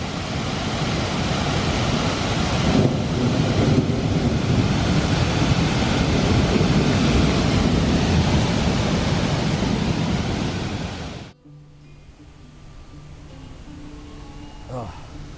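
Roaring outdoor waterfall, a loud, steady broadband rush for about eleven seconds that cuts off abruptly, leaving quieter ambience with faint voices afterward.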